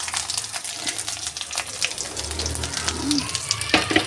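Chopped ginger fries in hot oil with a soft, steady crackle and hiss, faint and close, with a few small pops and stirring clinks toward the end and no talking.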